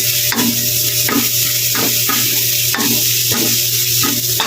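Fried rice with corned beef and malunggay leaves being stirred in a hot pan, with a spatula scraping in regular strokes about every half second over a steady sizzle and low hum, and no talking.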